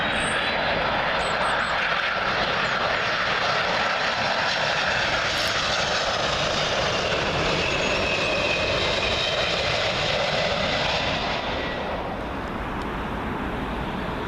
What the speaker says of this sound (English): Delta Airlines Airbus A330 in from Minneapolis, Minnesota.